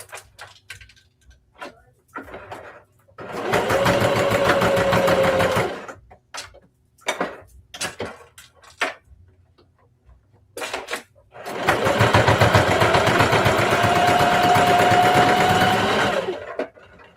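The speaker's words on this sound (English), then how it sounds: "we're going to sew the other side" A sewing machine stitches straight across the side of a fabric handbag made from two half-circles, running in two long steady bursts separated by quieter handling clicks and shuffling.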